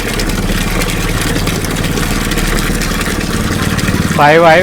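A submersible pump motor driven by an inverter hums steadily with a low, even drone close by, then a voice speaks briefly over it near the end.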